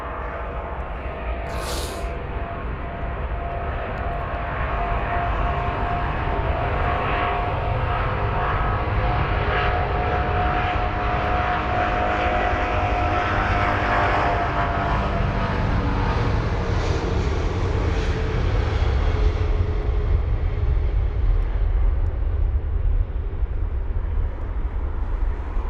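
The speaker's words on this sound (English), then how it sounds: "Now I can see the A380 actually, that's a 4-engine aircraft." An Emirates Airbus A380 four-engine jet departs Heathrow, heard as a steady, loud, broad engine roar that builds slightly and holds for over twenty seconds, with no talk.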